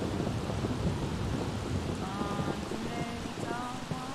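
Thunderstorm with rain in The Sims 3, a heavy rumbling roar of thunder over steady rainfall, with faint game chimes surfacing in the last half.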